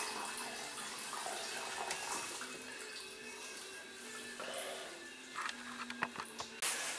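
Fuel drains off a removed Chevy GM truck fuel pump sending unit, a faint steady trickling and dripping that continues throughout with a few small clinks near the end.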